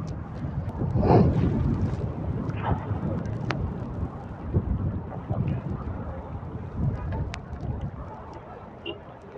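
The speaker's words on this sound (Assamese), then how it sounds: "ভয়ানক এটা বতাহ দি আছে" Strong wind blows at Zero Point in Yumthang Valley, Sikkim, buffeting the microphone with loud, uneven gusts while a person talks over it.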